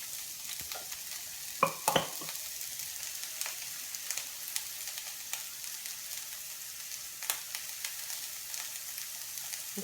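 Onions sizzle steadily in a hot pan while being stirred, a constant bright frying hiss punctuated by occasional utensil scrapes and clicks, close and moderately quiet, with no talk.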